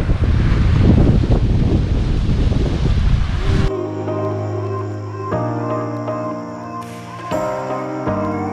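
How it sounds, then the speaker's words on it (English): Waves wash against the shore in Kefalonia, Greece, a loud rushing surge with wind buffeting the microphone for several seconds before it cuts abruptly to sustained tonal music. "you've got the waves lapping in the ocean"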